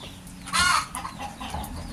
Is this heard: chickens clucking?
yes